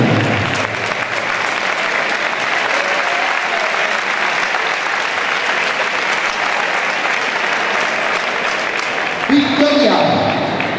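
Loud, sustained applause from the crowd at an elite 65 kg amateur boxing bout, steady dense clapping for about nine seconds before a voice comes in near the end.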